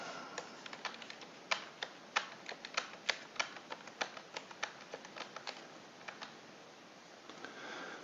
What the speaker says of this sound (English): So now it's continuously running while I type the numbers in.